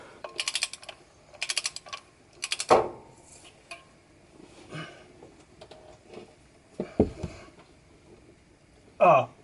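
ARP bolts on a Nissan Silvia S13 SR20 being tightened toward 70 foot-pounds, with short bursts of rapid ratcheting clicks, then scattered metallic knocks and clunks, close up and separated by pauses.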